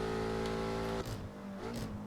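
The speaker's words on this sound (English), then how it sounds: "And here it is, the lap with the M5." A BMW M5 in a racing video game runs a lap, its engine tone holding steady and then dropping sharply, a gear-shift-like break, before it climbs again, with no talking.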